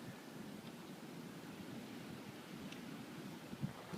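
Wind buffets a camera on a hilltop, a steady, rough rumbling hiss close on the microphone with a few small gust bumps near the end, and no voices.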